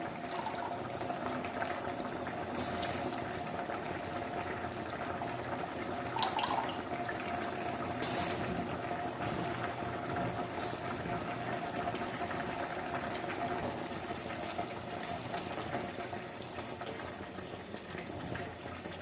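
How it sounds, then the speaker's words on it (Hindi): Water coming to a boil in a pot for mutton yakhni pulao, a steady broadband bubbling and hissing roar that runs continuously at even loudness, with a few brief brighter bursts and no talk. "पानी में बॉयल आने स्टार्ट हो गया है।"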